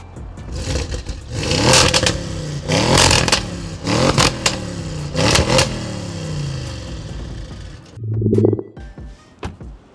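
Tuned Audi S8 at Stage 2 tune making about 750 horsepower, its engine revved in a series of sharp, loud bursts that rise and fall, followed by a brief deeper roar near the end, with no talking.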